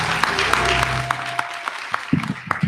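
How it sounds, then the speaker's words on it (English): An audience at a live film score concert in Saint Paul gives a round of applause for filmmakers and composers, dense clapping that thins to scattered individual claps near the end, close and fairly loud. "Another round of applause for all the filmmakers and composers who made these films."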